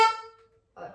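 Air valve button on an accordion pressed, letting out a soft airy hiss of escaping air near the end, after a fading tonal accordion note rings out alone.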